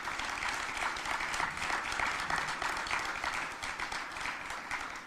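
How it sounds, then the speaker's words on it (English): An audience at an indoor announcement event for a Rochester battery-recycling hub gives a steady, dense round of applause, heard from a little distance and holding evenly throughout. "Can you give him a huge round of applause?"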